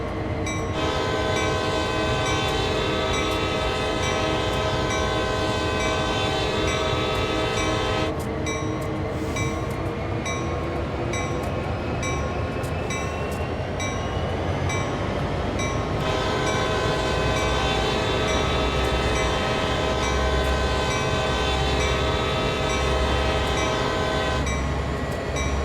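A train engine rumbles loudly and steadily nearby in an American town while a bell rings continuously over it, with sustained horn-like tones throughout.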